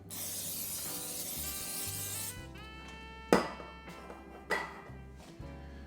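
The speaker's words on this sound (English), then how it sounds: "I'm going to take my cooking spray right here, and then I'm just going to spray the pan" Cooking spray hisses onto a frying pan for about two seconds, then stops, followed by a few sharp metallic clanks against a faint background hum.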